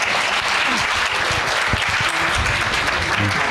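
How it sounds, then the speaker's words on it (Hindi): Devotees clap together in approval at a Jain religious gathering with Acharya Prasannasagar as his feet are ceremonially washed; loud, sustained applause from a large group, steady and close, with faint voices underneath. "सब ताली बजा के अनुमोदन करें"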